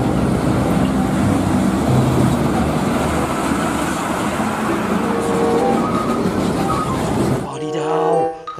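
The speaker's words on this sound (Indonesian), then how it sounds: "Wow, lihat teman, ada truk kontainer." A container truck's engine gives a loud, steady roar with road noise that holds for several seconds, then drops off sharply near the end.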